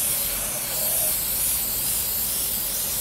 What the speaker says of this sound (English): So I'm just gonna give it a quick spray.